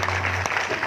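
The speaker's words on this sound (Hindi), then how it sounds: "एक बार जोरदार तालियां बजाकर इनका सम्मान करें" Brief, continuous applause from an audience at a devotional kirtan gathering honoring a singer, a steady wash of clapping lasting under a second.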